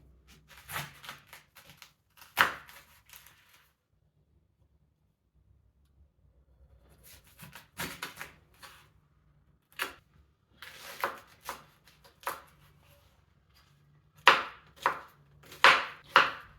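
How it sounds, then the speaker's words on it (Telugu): A knife chops banana flower pieces on a board in short clusters of sharp, close taps separated by quiet pauses, growing busier toward the end, with no speech. "ఇది అరటి పువ్వులోని చివరి భాగం అండి ఇప్పుడు దీన్ని కట్ చేసుకుని"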